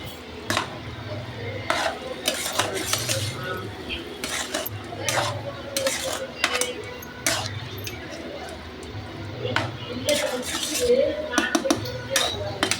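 Potato stir-fry is tossed in a pan with a metal spatula, giving repeated rhythmic clinks and scrapes over a soft low hum and a faint sizzle. A voice is heard at times.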